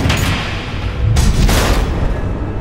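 Missiles exploding in the Batman: Enemy Within video game, a loud close burst of booms followed by a second heavy blast and a rumbling, crackling tail, with no talking over it.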